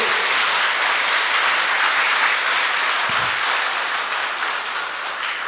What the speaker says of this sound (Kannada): ಜೋರಾಗಿ ಚಪ್ಪಳೆ ಚಲ್ಲಿ